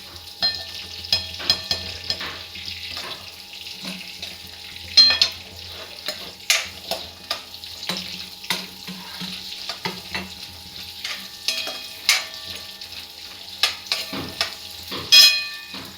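Ingredients for a bitter gourd masala roast in a pan with a soft, continuous sizzle, broken by scattered scraping and tapping of a spatula against the pan, all close up and without talk.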